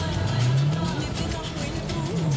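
Ford Mustang Shelby V8 engine held at a steady, loud rumbling rev with a rising pitch sweep, heard close up inside the car without talk.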